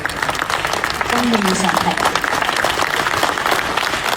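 Audience applause fills a Hong Kong Film Awards nominations announcement, a steady broad wash of clapping throughout with a voice speaking over it.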